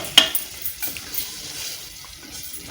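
A spoon scrapes and stirs chana dal and potato curry in a pan, soft clattering strokes and a light sizzle heard close up with no talk.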